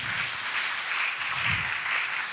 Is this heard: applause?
yes